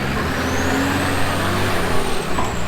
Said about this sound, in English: Sink that wheel and spin it